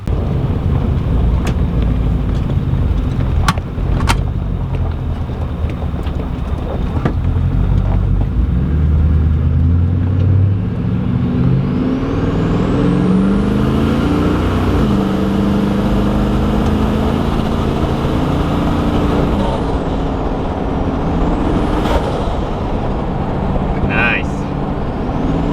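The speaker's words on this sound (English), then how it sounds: "Rex has finished putting your turbos on the VE080, so we're just going to go for a quick drive" Nissan Skyline R31 with freshly fitted turbos on the VE080 engine, driving with a loud, close engine drone that climbs through rising revs and gear changes amid road and wind rumble.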